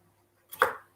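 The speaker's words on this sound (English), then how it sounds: "So we are going to slice it. Then we're going to chip it." A kitchen knife strikes once against a chopping board while vegetables are cut into chips for cottage pie, a single crisp, close thud-and-click that fades quickly out of near silence.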